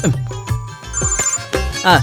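A phone rings with a bright electronic tone in repeated bursts, under overlapping talk and other household noise.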